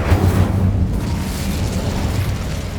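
Incendio fire spell cast in Hogwarts Legacy, a loud whooshing burst of flame that opens with a booming onset and then sustains as a dense roar for nearly three seconds.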